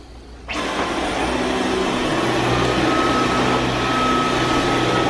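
A vacuum cleaner switches on and runs at a steady loud whine and roar for several seconds while vacuuming a new West Elm rug indoors.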